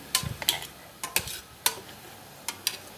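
A metal ladle presses and mashes cooked moong dal in a pot for varan, producing a string of sharp taps and soft squelchy clinks, irregular and close, with short pauses between strokes.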